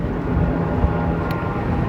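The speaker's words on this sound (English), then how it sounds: "lots of helicopter noise" Steady helicopter rotor and engine drone near an active volcano with lava flowing, a dense continuous low roar and broadband rumble, fairly loud and unbroken throughout.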